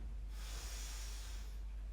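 A single slow, audible breath during a yoga session, a soft airy hiss rising and fading over about a second and a half, close up with no speech.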